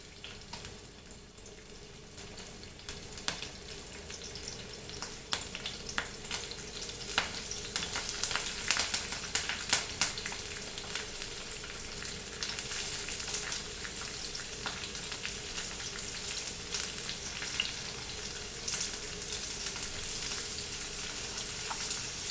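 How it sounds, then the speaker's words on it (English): Onions frying in vegetable oil in a pan, a steady close sizzle with crackling bursts that rise and hold throughout, no talking. "we have to fry our onion brown. So here it goes."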